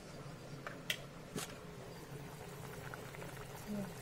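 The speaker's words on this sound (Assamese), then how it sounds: "আৰু আঞ্জাখন বৰ কি ধুনীয়াকৈ উতল আহিছে, ভক-ভকে।" Sour curry simmering in a pot on a stove, a steady low bubbling and boiling texture running throughout, with a couple of brief clinks of utensils; no talk during the clip.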